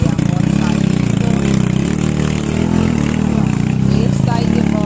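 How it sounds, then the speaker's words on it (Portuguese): A motorcycle engine rumbles steadily nearby, its low throb continuous and loud throughout, with no clear voices. "Aí a moto saindo."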